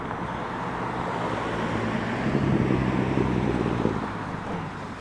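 Broadband wind roars across the microphone of a rider on an e-bike at speed on a late-night street. It is steady and loud, swells slightly midway, and is mixed with a low road rumble, with no speech.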